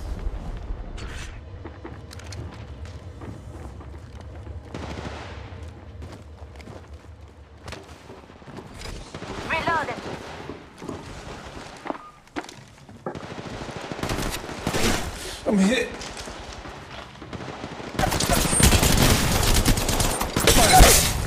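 Bursts of gunfire and automatic weapon fire in the mobile battle royale game Apex Legends Mobile, loud and uneven, swelling into a heavier barrage near the end, with no one talking.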